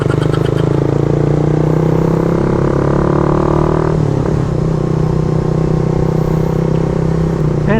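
Raider 150 FI motorcycle fitted with a Red Leo power pipe, engine loud and continuous throughout, held at low RPM on a road ride with a steady exhaust drone and a brief shift in pitch midway.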